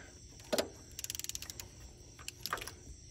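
A socket ratchet on a coolant temperature sensor of a late-1980s Ford truck gives quick runs of faint, close clicking in several short bursts with small metallic knocks between them.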